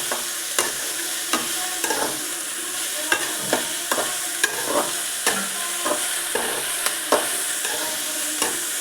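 Fresh garlic fries in a hot pan with a soft continuous sizzle, broken by regular scraping stir strokes about once a second, close and clear with no voices.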